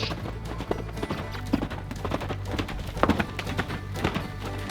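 Steady rhythmic clip-clop of a young horse's hooves trotting on firm ground during colt starting, fairly close, continuing throughout.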